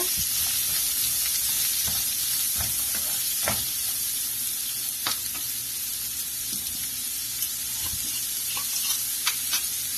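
Wheat rava upma with turmeric stirred in a pan, giving a steady loud sizzle and frying hiss with scattered scraping clicks of the spoon against the pan, and no talking.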